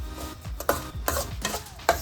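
Coconut and semolina fry in a pan for rava laddu, soft dry scraping strokes of a spoon stirring in a quick rhythm of about five pushes over two seconds, quiet and close with no voices.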